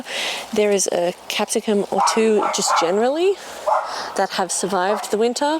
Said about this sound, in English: sorry about the dogs barking, I've just put mine inside.